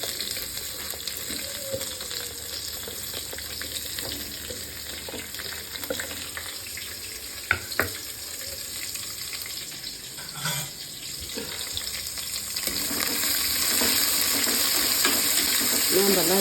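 Chopped large onions frying in oil with a little ghee for spicy chicken biryani, a steady sizzle running throughout with occasional stirring clinks and a louder crackle building near the end.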